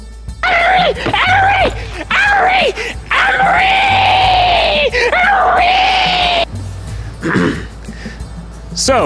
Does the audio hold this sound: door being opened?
no